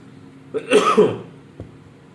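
A single close, harsh cough bursts out, followed by a brief soft sound, with quiet room hiss around it.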